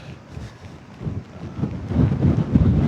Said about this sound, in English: I just wish there was a little less wind because it's making me really uneasy